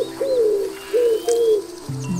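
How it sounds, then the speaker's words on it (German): Wood pigeon cooing in the wildlife adventure video game Alba: several soft, hollow coos in a rhythmic phrase, clear and close against a quiet ambient background. "Ringeltaube haben wir schon"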